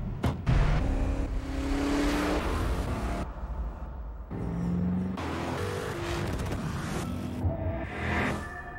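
The 429-horsepower Hyundai Genesis R-Spec accelerates hard, its engine climbing through rising rev sweeps, dipping between gear changes, then surging again, loud and close.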